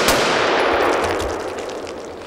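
A single sharp rifle shot from an 11.5-inch 5.56 piston gun fitted with a Griffin tapered flash hider cracks loudly at the start, then its echo decays slowly over two seconds outdoors.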